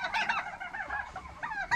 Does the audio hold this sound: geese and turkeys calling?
yes